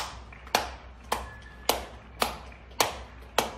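Slow, evenly spaced hand claps ring out from balconies during the Janata Curfew, six sharp claps with a short echo after each, heard alone against a quiet background.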